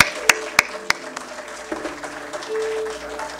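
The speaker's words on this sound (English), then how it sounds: "Could we give another round of applause" Applause from the audience at a memorial service, opening with a few sharp, separate claps before settling into a steady, moderately loud patter.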